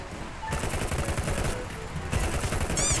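Loud bursts of automatic gunfire from the mobile shooter Free Fire, a dense rattling volley starting after a brief pause and continuing to the end, with a second louder burst near the close.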